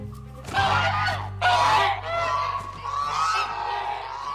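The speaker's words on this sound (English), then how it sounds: "Geese, you can hear their honks all the way in Ponyville." Geese honk loudly and repeatedly, a noisy flock calling over one another close by.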